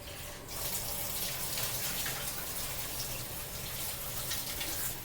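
Tap water gushes steadily into a kitchen sink as lettuce and spinach are rinsed for a salad, a loud, even splashing stream from start to finish.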